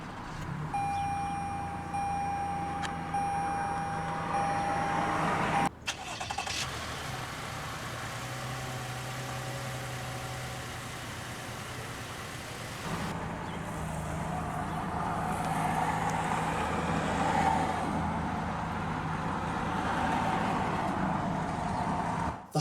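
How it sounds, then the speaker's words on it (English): A 2021 Toyota Highlander XLE started with its push button, settling into a steady, even idle that hums on alone, with a brief shift in tone partway through. "let's go ahead and start the engine"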